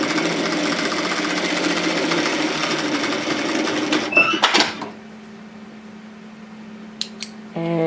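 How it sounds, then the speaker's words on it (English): Sewing machine running a steady, continuous stitching whir up close while sewing down the sides of an apron, then stopping abruptly, followed by a quiet hum and a few light clicks of handling. "So now we need to sew these sides down as well."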